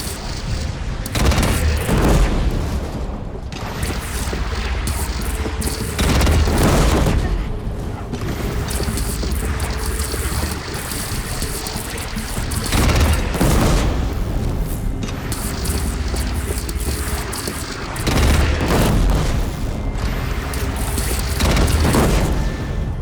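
Cannon fire during a battle in the video game Horizon Zero Dawn: repeated heavy booms roughly every few seconds, loud and near, layered with gunfire, explosions and battle noise while voices shout over the combat.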